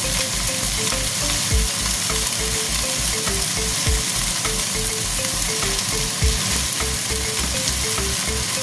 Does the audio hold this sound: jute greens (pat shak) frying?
yes